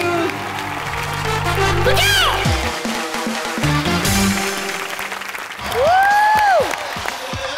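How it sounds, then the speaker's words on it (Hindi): A TV comedy show's studio audience applauds loudly under music, with sliding tonal sound effects and a voice speaking over the clapping. "जोरदार तालियां हमारे कृष्णा बाबा के लिए, अदिति एंड सुदेश"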